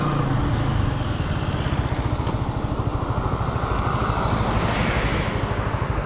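Zontes G1 Scrambler 125 motorcycle riding in eco mode, its engine a steady close rumbling drone throughout with wind noise on top, and a rider's voice is mixed in.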